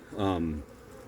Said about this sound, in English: there were some bees coming in with pollen